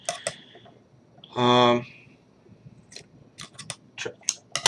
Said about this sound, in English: Snip my ends here.